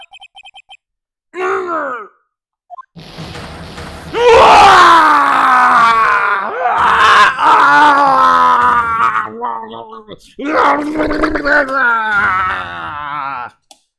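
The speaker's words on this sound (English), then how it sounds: "That scream. I've heard that scream before." A game character's cry from the Phoenix Wright: Ace Attorney courtroom game, a strained, wavering voiced wail with groaning breaks that rises and falls over several seconds, loud and close, with a short gasp at the start and a second burst near the end.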